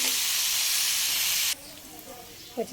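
Spice paste for a dried-fish curry fries in a pan with a loud steady hiss and sizzle that suddenly drops to a quieter crackle, with faint voice sounds at the end.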